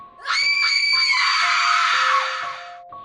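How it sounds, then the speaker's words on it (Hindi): A woman lets out a loud, sustained high-pitched scream as a horror story sound effect, rising sharply then trailing off over about three seconds. "और वो जोर से चिल्लाती है"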